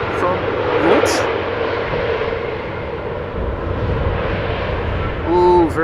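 A jet landing on runway 27 at Amsterdam Schiphol produces a broad, rumbling engine roar that swells and then eases off, with a voice briefly audible near the end.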